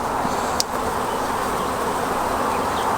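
A swarm of honeybees in an old nuc box hums in a dense, steady drone of many wings close by, continuous and alone for a few seconds.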